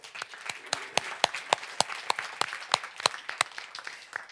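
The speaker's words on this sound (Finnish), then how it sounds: "Mutta annetaan nyt heillekin aplodit." Seminar audience claps in a steady, fairly sparse patter of distinct hand claps, close and moderately loud, with no talking over it.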